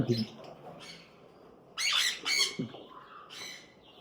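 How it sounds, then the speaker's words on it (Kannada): Harsh squawks from tame aviary birds burst out a few times, close and loud, separated by short pauses, with quieter room noise in between. "ಸೊ ಇದೆಲ್ಲ ಟೇಮ್ಡ್ ಬರ್ಡ್ಸ್."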